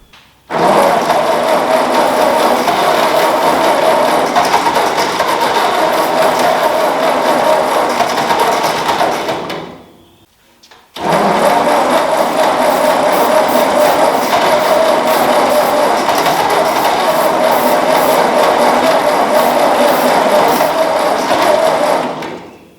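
Ford 2N tractor engine cranking on starting fluid with a loud, steady, close mechanical churn. It runs for about ten seconds, stops briefly, then cranks again for a similar stretch, with no talking.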